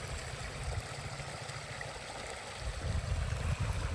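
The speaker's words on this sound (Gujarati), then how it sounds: "અહીં આવે છે આપણું પાણી, અહીંથી છેટ વાહુથી પાણી જાય અહીંયાથી" Irrigation water flows into a wheat field with a soft, continuous rushing gurgle, faint and steady, swelling slightly louder toward the end.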